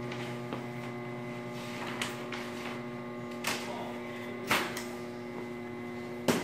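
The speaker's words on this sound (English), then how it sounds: "I'm going to turn off the motor. It's still running" A CAC ShaftLok safety chuck machine's motor runs with a steady electrical hum, close and constant, with a few sharp clicks and knocks from handling the shaft over the top.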